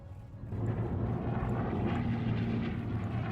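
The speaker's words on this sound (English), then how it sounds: "we got a plane now scouting around" A propeller plane in the Arma 3 video game drones overhead, a steady, loud engine hum with a throbbing low tone that swells in within the first half second and holds constant.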